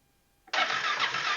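An ATV engine cranks and catches after a half-second of near silence, settling into a steady, close running roar with slight unevenness.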